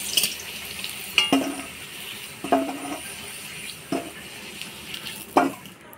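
Potatoes and rita fish fry in an oiled pan, a steady sizzle broken by four sharp stirring scrapes spaced about a second apart, close and moderately loud.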